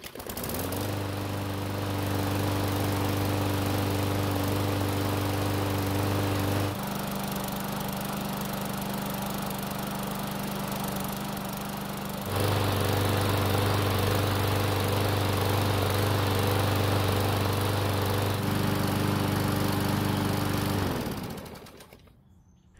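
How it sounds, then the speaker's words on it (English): A Murray lawn mower engine runs steadily at close range, its drone shifting pitch a few times before cutting off at the end. "So the engine started on the first pull"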